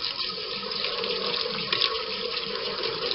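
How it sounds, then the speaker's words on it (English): Cold tap water runs steadily over a celery stalk as it is rubbed clean under the faucet, a continuous close splashing hiss with no talk. "put your celery stalk under the water, and clean it like that"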